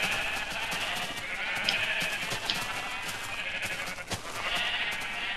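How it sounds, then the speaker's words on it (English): Sheep in a video game bleat over and over, several overlapping calls at moderate distance in a steady, busy stream of sound. "These sheep going through this little arch"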